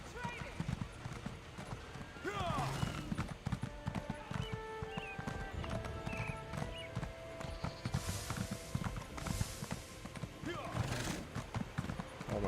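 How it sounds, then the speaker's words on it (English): Horse hooves clip-clop at a quick gallop in The Elder Scrolls Online, a steady rhythmic patter with an occasional whinny, mixed under game music and a person talking over it. "My horse seems pretty slow"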